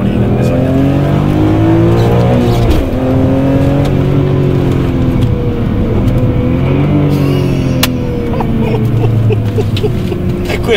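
A BMW M3 E46 accelerates hard through its gears, the engine note climbing steadily then dropping abruptly at each of two or three shifts, loud and close from inside the car with a constant roar throughout.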